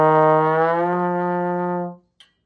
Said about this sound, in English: But on trombone, we get that sliding sound like this.